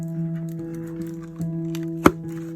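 A single sharp pop as an oval cement candle vessel releases from its silicone mold, brief and close, over a quiet steady background hum with a few soft handling taps.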